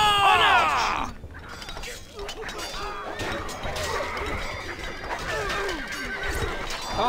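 Horses neigh and whinny in the medieval strategy game Stronghold HD, loud and close at the start, then continuing over a busy game battle mix with clatter, hooves and crashing sounds and some voices.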